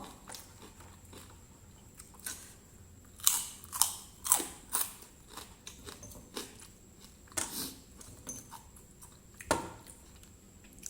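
Close, crisp crunching and chewing of crispy rice and crispy pork, with irregular sharp bites and softer mouth sounds spaced across the stretch and no talking.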